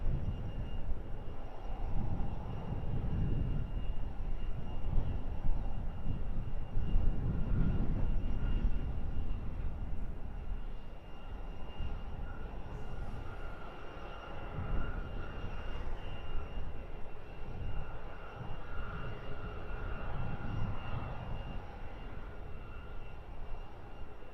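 An EasyJet Airbus A320neo turns to line up for a full-length departure, its engines giving a steady, moderately distant rumble and whine that rises and falls slightly throughout.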